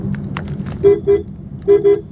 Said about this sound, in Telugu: బండి హార్న్ అయితే మాత్రం ఇదే